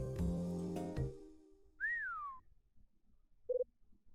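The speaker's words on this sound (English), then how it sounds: "Somebody's whistling." Someone whistling in the Hotel Dusk video game: a single clear rising-then-falling whistled note, a short higher chirp after it, and some soft tonal game sounds just before.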